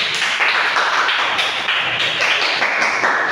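A classroom of students gives steady, dense applause, loud and close, with rapid overlapping claps sustained throughout without pause.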